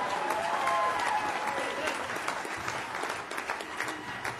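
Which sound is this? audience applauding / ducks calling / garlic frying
audience applauding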